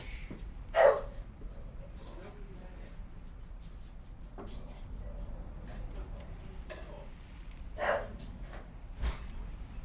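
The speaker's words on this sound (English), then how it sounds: "Barking at ghosts, that dog." A pet dog named Millie barks in a few sharp, separate bursts indoors, one near the start and another around eight seconds, over low room noise, with soft household knocks between.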